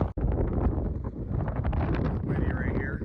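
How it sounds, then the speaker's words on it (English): Wind buffets a microphone on a mountain pass during a rainy backpacking trip along the Red Deer and Clearwater rivers, a loud continuous low roar with gusty surges and a brief dropout near the start. "Windy right here."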